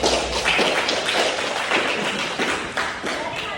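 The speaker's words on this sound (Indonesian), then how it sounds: "Tepuk tangan buat Mas Yogi dulu." A class applauds a student: a brief burst of scattered clapping from a small group, close and fairly loud, lasting a few seconds.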